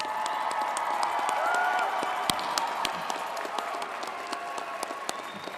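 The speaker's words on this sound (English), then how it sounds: "How about a round of applause?" Steady applause from the audience at a college graduation ceremony fills a large hall, a dense wash of clapping that continues for several seconds with scattered sharper claps standing out.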